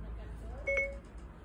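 An iPhone's Siri activation chime, a short, clear two-tone electronic beep sounding once, close and alone against quiet room noise.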